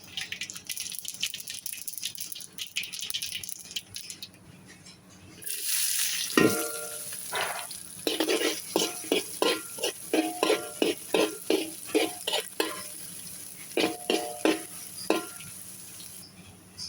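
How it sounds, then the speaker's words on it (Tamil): Onions frying in oil in a pan for a goat blood dish, with steady sizzling and a run of rhythmic stirring scrapes and clatters in the second half, close and moderately loud, with no talking. "வெங்காயம் நல்லா எண்ணெயில் வதங்கிருச்சு."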